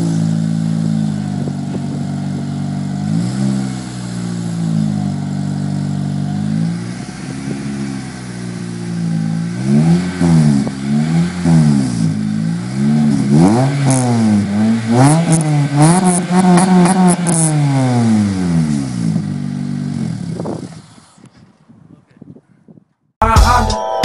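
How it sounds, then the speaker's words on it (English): Honda Acura RSX engine revving hard through its exhaust, loud and close, with repeated rising and falling revs building toward the end before cutting to near silence. "That's my Honda."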